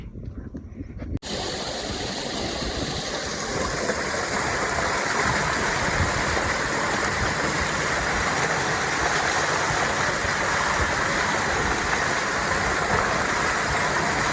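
A strong, steady rush of irrigation water from a motor pump gushes continuously and close by into a farm field after a brief quiet start, with no voices.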